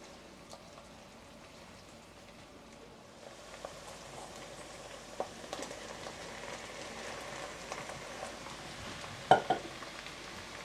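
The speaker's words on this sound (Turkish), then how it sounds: "Karnabaharı salçayla birlikte kavuruyorum" Cauliflower stir-fried with pepper paste in a pan gives a faint, steady sizzle, with soft scraping and stirring clicks growing busier midway and a couple of sharper knocks near the end.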